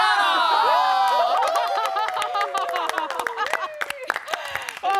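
A game-show contestant group cheers, screams and claps loudly, with excited voices rising over a dense burst of hand claps that gradually thins out near the end.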